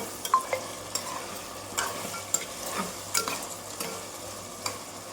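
Country chicken curry fries in oil while a spoon stirs it, giving a soft sizzle with irregular scraping and clacking strokes against the pan, close and alone.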